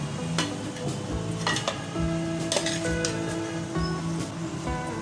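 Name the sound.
mixing spaghetti noodles and chicken in a pan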